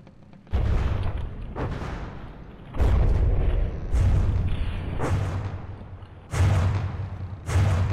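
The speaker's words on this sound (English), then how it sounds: "We'll turn off its guns, because we are very explodey with that big gun there." A big gun in the From The Depths naval combat game fires explosive shells, giving five heavy booms spaced a second or two apart, each with a deep rumbling decay and no talk.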